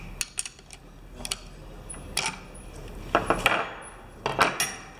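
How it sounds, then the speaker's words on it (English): Metallic clinks and light taps of a wrench tightening the bearing lock nuts against each other on a Nexus 3-speed bicycle hub, in short irregular bursts close up in a quiet room. "And lock these two nuts against each other."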